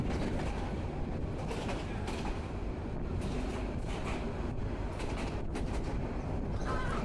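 The Egarosindhur Provati passenger train runs on the rails with a continuous rumbling roar and faint clatter, heard from inside a carriage, with voices murmuring in the background.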